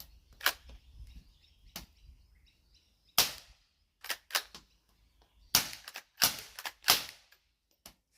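Sharp, separate shots from a small .22 short gun at a camp, about ten cracks spread irregularly across the stretch, some in quick pairs, loud and close with short decays and no talk.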